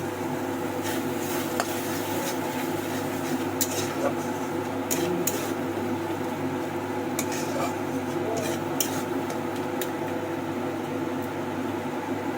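Spice paste frying in a pan gives off a steady hiss, while a utensil scrapes and clinks against the metal at irregular moments; a person talks throughout.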